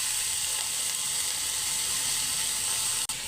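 Onions frying in a hot pan for a coastal Karnataka kalwa oyster sukka, a steady close hiss and crackle of oil that holds evenly throughout, with one brief break near the end and no talk.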